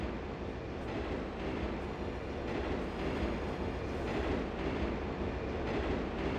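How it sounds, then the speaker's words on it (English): Steady rumble of a train rolling past in the Turok 3 video game, continuous dense rail noise with a faint clatter running evenly throughout, no voices. "let that train come back through"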